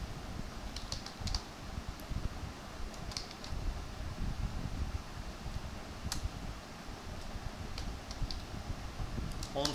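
Typing on a computer keyboard during a Class 6 computer lesson, heard as scattered clusters of faint key clicks over a steady low fan-like hum, with no speech.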